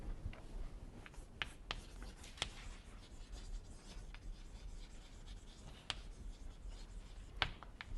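Chalk or marker writing by hand on a board during a lecture on heterogeneous reaction rates, heard as faint scratchy strokes and taps scattered over a quiet room with low background hum.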